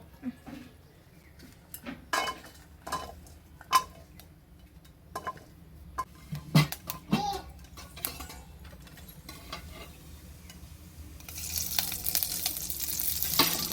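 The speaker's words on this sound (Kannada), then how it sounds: "10-12 ಮೆಣಸಿನ್ಕಾಯಿ ಇದು ಹಸಿ ಶುಂಠಿ ಅದನ್ನ ಹಾಕಿ ಹುರ್ಕೊ" Green chillies and fresh ginger fry in a pan. Scattered clatters and knocks of utensils come first, then a broad hissing sizzle rises and holds over the final few seconds.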